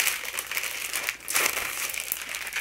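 A pack of slightly stiff paper sheets is pulled out of its plastic wrapping, producing close, continuous crinkling and rustling with a brief lull midway and no speech.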